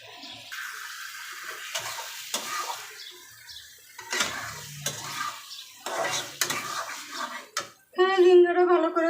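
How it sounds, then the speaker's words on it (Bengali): Ridge gourd being sautéed in a pan in a Bengali village kitchen, intermittent scraping and stirring with soft sizzling, spoon knocks against the pan, and a voice speaking near the end. "ঝিঙ্গাটা ভালো করে কষায় নিছি"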